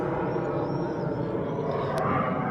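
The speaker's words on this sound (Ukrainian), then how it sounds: "літаки літають. Тут поряд е, аеропорт, місто Фальконара." Airplanes flying near an airport by the sea in Falconara, Italy, a continuous broad engine roar that holds steady and swells slightly near the end, with faint high whistling tones above it.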